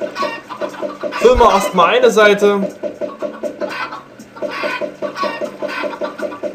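Minecraft chickens on a chicken farm cluck in short repeated bursts throughout, loud and close, while someone talks over them.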